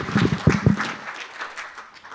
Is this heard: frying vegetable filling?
no